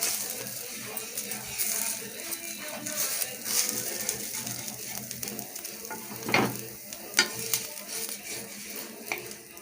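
Rice-flour appam batter sizzles and crackles on a covered dosa griddle, a soft steady frying hiss with a few faint clinks of utensils.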